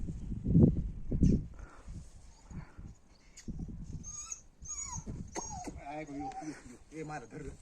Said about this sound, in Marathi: हिरीमध्ये पडलेले कुत्रे